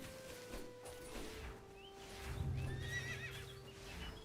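A horse in the video game Quinfall lets out a drawn-out whinny, with a clip-clop of hooves under it and a faint background hum, close and fairly clear with no talking.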